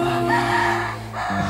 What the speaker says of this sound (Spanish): Los gallos cantan y se levantan.